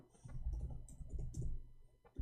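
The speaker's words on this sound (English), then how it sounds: "Hold on, I'm typing in Arabic." Computer keyboard typing in a quiet room, a steady run of soft, close key clicks in uneven bursts with short pauses, no voice over it.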